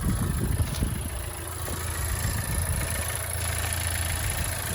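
A 2018 Honda Civic Type R Touring engine idles smoothly with a steady low hum and faint mechanical whir, continuous and even throughout.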